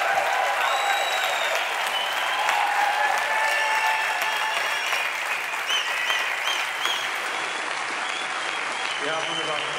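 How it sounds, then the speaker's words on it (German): Sustained audience applause at a German-language talk on trees, a dense, steady wash of clapping across the whole stretch with some crowd noise, fairly close and loud. "Applaus für die Bäume."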